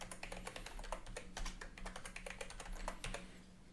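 Rapid keystrokes on a computer keyboard, close and fairly soft, tapping in an even, continuous stream of clicks with no talking, as a new root password is entered on Kali Linux.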